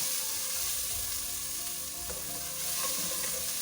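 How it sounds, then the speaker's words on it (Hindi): Steady, loud sizzling of garlic and ginger frying in hot oil, with a continuous crackling hiss and faint stirring sounds. "लहसुन अदरक को हमने फ्राई करना है इसमें।"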